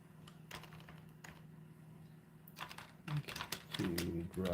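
Computer keyboard typing in scattered clusters of sharp key clicks, close up, with a voice briefly heard near the end.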